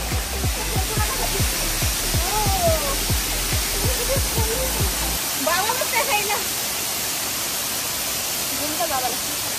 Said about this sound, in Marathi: फायनली जो आवाज आपण ऐकू शकतो तो आहे गोवा वॉटरफॉलचा